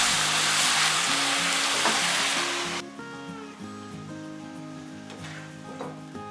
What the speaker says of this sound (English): Finally add the spring onion, briefly stir and cut the fire.